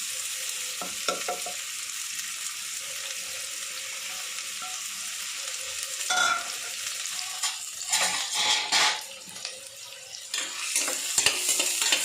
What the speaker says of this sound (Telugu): కొంచెం ఆయిల్ బాగా వేడి అయిన తర్వాత ఆనియన్స్ వేసుకున్నాను.